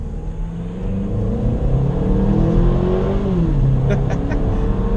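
A small turbocharged engine in a 2017 Infiniti QX30 SUV revs up under acceleration, its droning pitch climbing steadily with a low road rumble beneath.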